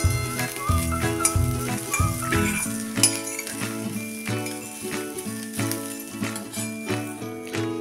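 Coriander and green chillies sauté in a hot pan for a peanut green chutney, giving a steady close sizzle with repeated metallic clinks of a spatula scraping and tapping the pan.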